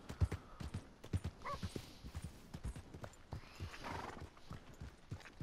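Horse hooves clip-clop at a steady walking rhythm in the Western town of Valentine in Red Dead Redemption 2, close and clear, with the horse whinnying and low game ambience around it.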